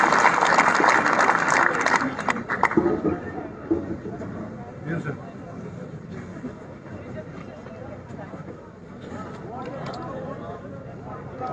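A crowd at a political rally for a National Conference vice president applauds loudly for a few seconds. The clapping fades into a murmuring crowd while someone speaks over a loudspeaker.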